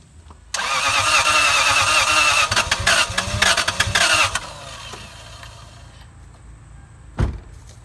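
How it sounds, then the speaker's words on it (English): A Lexus engine that cranks but won't start, turned over loudly after starter fluid, the starter whirring for about four seconds with a brief uneven catch before it stops, then a single clunk. "You heard it try to start a little bit."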